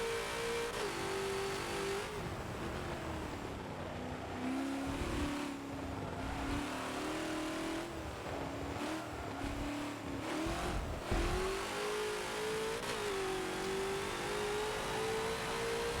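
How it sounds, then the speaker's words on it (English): A Ford GT40 race car in Forza laps the old Le Mans circuit, its engine droning steadily and shifting pitch as it speeds up and slows, with tire noise rising in the corners and no talk. "then you'll start to hear the tires make a little bit more noise"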